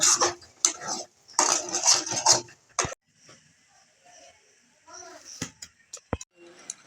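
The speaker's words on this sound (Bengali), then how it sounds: "সুজিটা আমি এবার একটা থালার মধ্যে ঢেলে নেব" Cooked semolina is scraped from a pan onto a metal plate, producing a few sharp metallic knocks and clatters amid soft scraping, with a voice talking at the start.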